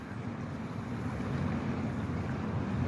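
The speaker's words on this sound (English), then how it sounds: "That creek sure is running a lot harder this morning" A continuous broadband rush of a creek running high after wet weather, steady and fairly close, with a dense hissing texture and no voices.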